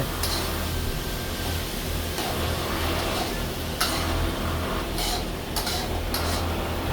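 Food being stirred in a cooking pan in a home kitchen, a steady scraping and sizzling texture with a few sharper clinks of utensil against pan, continuous and fairly close under a low hum.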